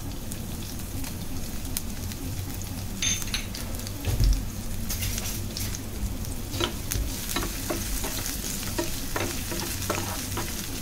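Chopped garlic, ginger and crushed green chili sautéing in two to three spoons of hot coconut oil, a continuous close crackling sizzle with light stirring clinks and a brief thump.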